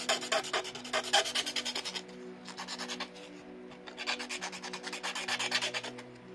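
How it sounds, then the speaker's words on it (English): Sandpaper wrapped around a round handle rubs back and forth inside a hole cut in a panel for a scratch-built bus, making rhythmic rasping strokes in bursts separated by short pauses, close and clear. "It's a little trick with some sandpaper wrapped around a round handle, approximately the size of the hole we need."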